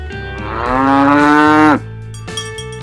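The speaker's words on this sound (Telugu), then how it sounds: "ఆవు." A cow gives a single loud, drawn-out moo that rises and holds before cutting off, followed by quieter background sounds.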